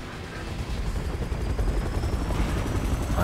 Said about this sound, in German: Hubschrauber hebt ab.